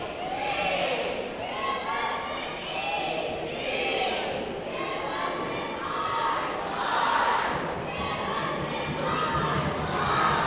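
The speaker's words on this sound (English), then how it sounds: "The Otto-Eldred cheerleaders rousing the visiting fans up here. Trying to get the crowd into it, get that noise going." Crowd of visiting fans at a varsity playoff basketball game, Port Allegany against Otto-Eldred, roused by Otto-Eldred cheerleaders, with loud sustained cheering and shouting rising in waves throughout.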